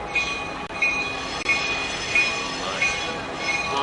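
A train rolls past near the 2006 Seattle Hempfest grounds, a steady close rumble with thin, high wheel squeals that recur every second or so, and a faint voice in the background.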